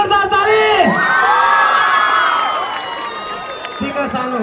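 A stage-show audience erupts in loud, sustained cheering, with whoops and children's high shouts over crowd noise and a little scattered clapping, easing slightly toward the end.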